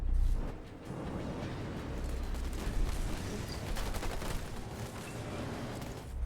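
Marines fire steadily in a 2v2 StarCraft-style strategy match, a dense, continuous crackle of rapid game gunfire that fills the whole stretch at fairly even loudness, with no voices over it.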